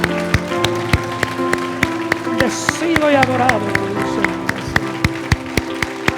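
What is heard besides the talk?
congregation applause in church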